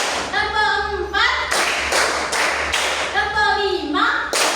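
A sixth-grade class claps hands in a few loud group bursts, separated by short stretches where a voice talks over a faint room hum.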